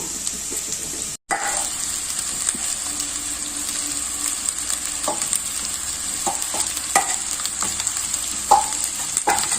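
Rice stirred and fried with lightly cooked vegetables in a pan for egg fried rice, with a steady close sizzle throughout, scattered spatula scrapes and taps, and no speech.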